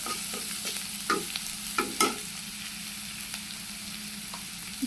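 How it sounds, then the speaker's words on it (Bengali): Crushed garlic fries in hot oil in a pan for a shrimp and taro-stolon curry, a close, even sizzle punctuated by a few sharp spoon scrapes and clicks as it is stirred, with no speech. "এখন এই যে তেলটা গরম হয়ে গেছে, এখন আমি দিয়ে দিব। নেড়ে চেড়ে ভালো করে একটু ভেজে নিব।"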